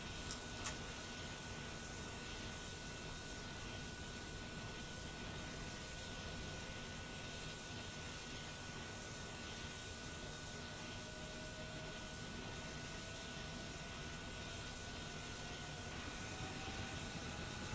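A Transall C-160R military transport in MSFS 2024 spools up its engine, a steady, loud broadband turbine roar with a faint rising whine, continuous and without speech.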